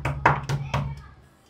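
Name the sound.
knocking on a door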